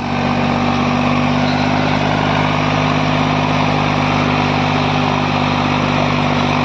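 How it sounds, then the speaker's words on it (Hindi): Close, constant engine roar from a tractor hitched to a 9x9 harrow as it bogs down and stalls in its pull, the low drone holding evenly from start to finish without any speech. "हौस रुक गया ट्रैक्टर"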